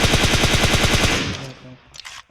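Automatic gunfire in the mobile battle-royale game PUBG Mobile: a fast, loud, steady burst of rapid shots for about a second, then fading echoes and a brief clatter afterward, with no talking.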